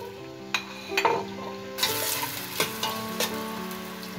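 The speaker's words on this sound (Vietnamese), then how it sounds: "Bây giờ mình sẽ bỏ hành tỏi vào, mình phi lên cho nó thơm." Onion and garlic frying in oil in a pot for a sour fish soup, a steady close sizzle with scraping stir strokes and light utensil clinks against the metal pot.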